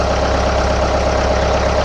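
A repaired tractor engine idles steadily at close range, a constant loud mechanical drone with a regular pulsing beat, cutting out abruptly at the very end.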